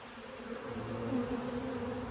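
Honeybees hum in a steady, low drone around an open hive during an inspection, with the buzzing rising slightly and holding even throughout.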